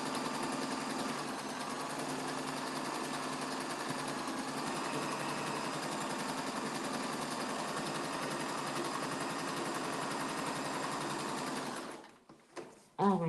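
A sewing machine stitches pieces of a quilt block together with a fast, steady, close whir. It runs without a break for about twelve seconds and then stops, leaving brief handling clicks.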